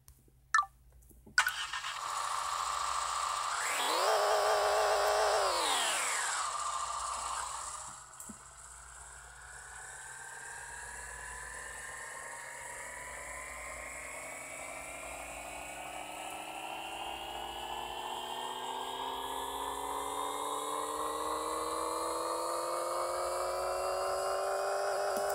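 Car engine on a dyno in the video game Pixel Car Racer: a synthetic engine starts, rises and falls in a short rev, then climbs steadily through the gears in a long, even, rising whine.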